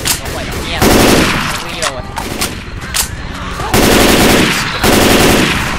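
Rapid automatic gunfire in the zombie shooter Left 4 Dead 2, loud sustained bursts near the listener, broken by short gaps with scattered shots and voices between the volleys.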